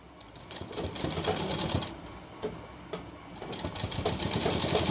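A sewing machine stitches a shirt collar in a fast, even mechanical chatter, with short pauses and restarts, fairly quiet and close.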